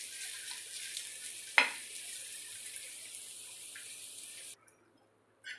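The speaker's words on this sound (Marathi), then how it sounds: "थोडंसं तेल घालून भाजून घ्यायचे. ब्राऊन करून घेऊ कांदा आपण." Onions browning in a little oil for a village-style katla fish curry give a constant bright hiss, with one sharp clink, before the sound cuts out abruptly near the end.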